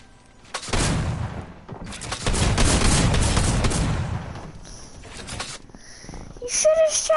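Rapid gunfire bursts from a gun in the video game Fortnite, loud and dense in several volleys, with quieter game sounds and brief tones between them.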